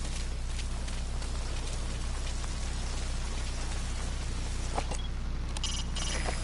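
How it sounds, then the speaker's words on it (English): Steady rain pours down in the video game Metal Gear Solid V, a constant loud hiss of drops hitting surfaces with no break, heard alone. "That rain just won't let up."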